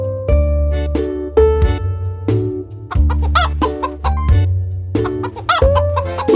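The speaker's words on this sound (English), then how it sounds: "Our hens have scattered all over the garden." Cartoon hens cluck repeatedly in short, rhythmic calls over bright chiming music and tinkling jingles, loud and steady throughout.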